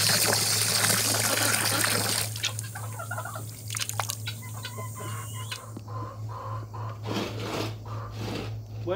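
Water is poured into flour-based chicken feed, trickling and splashing at first, then giving way to scattered drips and soft clucks from nearby chickens over a steady low hum.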